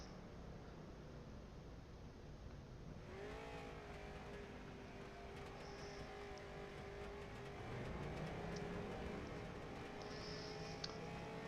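Race cars rev and pull away from pit road at Concord Speedway during a Northwest Short Track Series finale, with a steady engine drone and rising, shifting pitches at a moderate distance.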